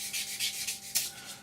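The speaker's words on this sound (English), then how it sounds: "just come along with a sanding sponge, and then going with, don't go across, go with it" A sanding sponge rubs along plastic parts of an Eduard B-24 scale model kit, making a close, steady series of soft, raspy back-and-forth strokes with no talk.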